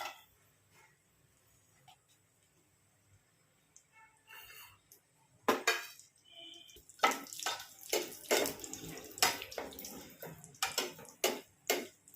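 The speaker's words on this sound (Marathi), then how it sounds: "खोबऱ्याचे काप तळून घेऊयात." Dried coconut slices fry in hot oil for a Diwali dahi poha chivda, starting faint and quiet, then breaking into loud, crackling, bubbling sizzle bursts close by for the second half.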